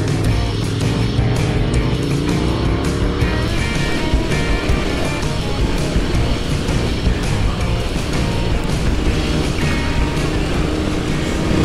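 Triumph three-cylinder motorcycle accelerating hard on a fast gravel rally track, its engine a loud, steady roar mixed with wind rush and gravel noise throughout, close to the microphone with no talking.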